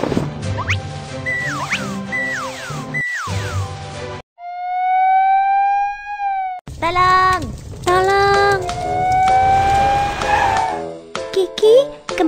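Cartoon fire engine siren, loud rising and falling electronic wails in a long sustained run, broken by short gaps and playful sound effects, with no voices over it.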